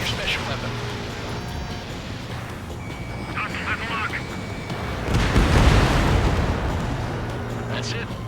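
An enemy bomber explodes in Ace Combat 7, a broad roaring blast swelling over several seconds beneath jet engine drone, with radio chatter talking throughout.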